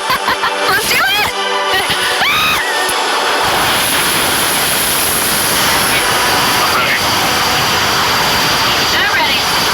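A small skydiving plane's engine drones loud and steady from start to finish, a broad continuous roar with a voice speaking over it in the first few seconds.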